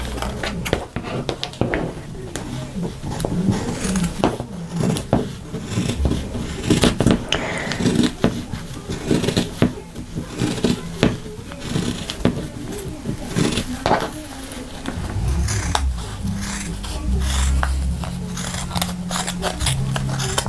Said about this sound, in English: I'm just going to pin it on and cut it.